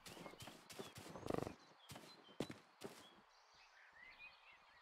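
Hooves of a horse being ridden in a video game, a run of distinct clip-clop strikes, loud and close, that slow and thin out to a few separate steps, with faint ambient game sound between them.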